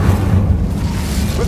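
Incendio fire spell cast in Hogwarts Legacy, a loud, broad whooshing burst with a deep rumbling body that holds steady and fades slightly, with a voice briefly audible.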